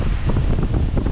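Strong wind buffets the microphone in low, rumbling gusts, a brief, loud roar with no voices.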